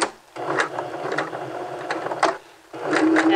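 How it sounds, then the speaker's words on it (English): A sewing machine stitches seams on a men's vest, running in steady mechanical bursts with a short pause and restart as it back stitches; the hum is close and fairly loud, with no talk. "Let's go ahead and do a couple of stitches and then back stitch."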